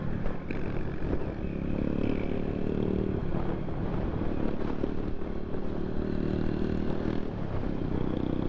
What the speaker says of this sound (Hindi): इस बाइक को जाने देते हैं, और बहुत ज़्यादा आवाज़ भी है इस बाइक की।